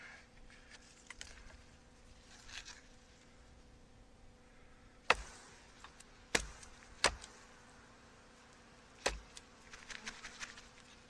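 Honey bees buzz faintly and steadily around an opened hive as a beekeeper pulls frames, with occasional sharp knocks and clatter of hive parts breaking through the low hum.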